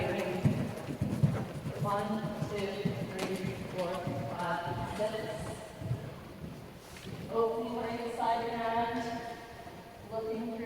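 Horse hooves clip-clop in a steady rhythm during a riding session, fairly close, while a rider talks over them almost continuously.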